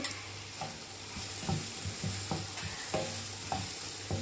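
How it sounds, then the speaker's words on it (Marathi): Tomatoes with turmeric are sautéed in a pan for a Malvani-style fresh cashew curry, with a spoon tapping and scraping in a regular rhythm over a quiet, steady sizzle, close and without talking. "आता हे व्यवस्थित परतून घेऊन"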